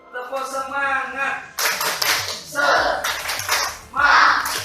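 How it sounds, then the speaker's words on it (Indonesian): A class of children claps the tepuk semangat rhythm in a classroom, several bursts of group clapping coming close and loud, with a teacher's voice and children's voices mixed in. "Yuk, cuma 1, 2, 3. Tepuk semangat."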